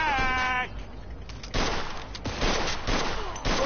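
Gunfire in the Mafia II video game: several sharp broadband shots in a ragged sequence, coming after a brief high, cat-like tonal cry at the start.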